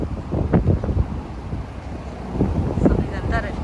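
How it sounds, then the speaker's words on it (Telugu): Strong wind gusts outdoors in dusty, sunny Kuwait City weather, buffeting the microphone with low rumbling bursts while people talk underneath. "డస్ట్ వల్ల ఏమో గాలి కూడా చాలా ఎక్కువగా ఉంది."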